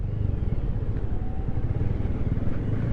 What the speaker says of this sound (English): It's a good throaty exhaust note